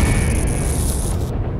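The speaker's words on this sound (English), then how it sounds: "Electricity grenade equals crazy explosion, apparently." An electricity grenade explodes in the video game Henry Stickmin, a loud, sustained booming burst with a crackling, electric high-pitched whine that cuts off abruptly.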